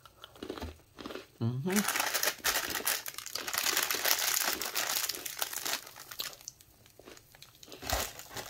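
Someone bites and chews a fresh, crunchy Nabisco Oreo chocolate sandwich cookie up close, with dense crinkly crunching that fills most of the clip and a brief murmur from a person.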